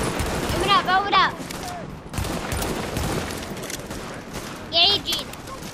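Assault rifle gunfire in the video game The Division rattles in steady bursts under the game's background noise, while voices talk over it at moments.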